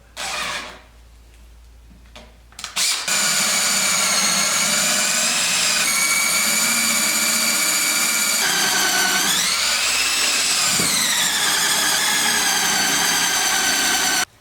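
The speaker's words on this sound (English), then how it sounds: "let's drill this hole" A handheld power drill whines steadily and loudly after a brief quieter start, its pitch dipping and rising as it bites through material for a drift trike, then stopping.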